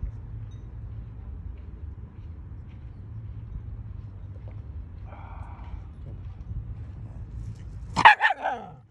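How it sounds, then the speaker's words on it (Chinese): A small dog lets out a short burst of a few sharp barks near the end, after a stretch of quiet low rumbling background. "又来一小狗"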